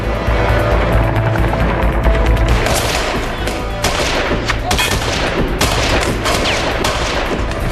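Rapid bursts of gunfire crack loudly and repeatedly during a combat mission exercise, with an aircraft or helicopter drone running underneath and the shots clustered in irregular volleys.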